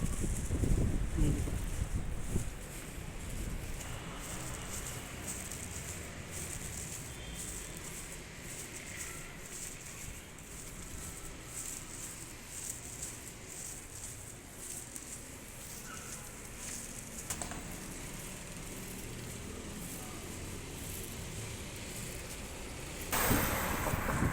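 Steady wind blows across the microphone with a constant rushing hiss, faint and continuous, with a stronger gust at the start and end.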